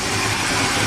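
An old Ford Ranger pickup's engine, barely running rich, idles steadily at close range, with a low continuous rumble and no talking over it.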